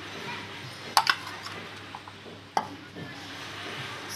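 A metal spoon adds spice powder to fish pickle with a few light clinks against the container, around one second and again near two and a half seconds, over a quiet background.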